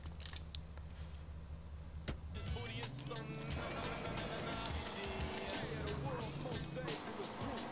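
Car driven in the GTA San Andreas video game, an engine rumble that rises after a low idle, with creaks and mechanical game noises, heard under someone talking.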